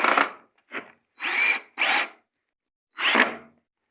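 A power drill drives screws into rustic wood flooring over joists in short bursts: a quick zip, a brief spurt, then two longer whirring runs and a final burst, close and fairly quiet with silence between.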